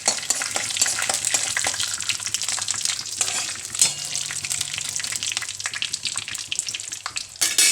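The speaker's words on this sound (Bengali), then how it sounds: "পাঁচ ফোড়ন, একটু বেশি দিলাম, 1 চামচের একটু বেশি। আচ্ছা, এবার একটু নাড়াচাড়া করে" Panch phoron spices frying and stirred in a pan, a close, bright crackling sizzle with scraping strokes of the spoon throughout, and no talking.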